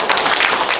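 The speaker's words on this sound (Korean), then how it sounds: "박수 한번 더 쳐주세요." Congregation applauding during a Korean church worship service, dense steady clapping close by and filling the whole brief moment.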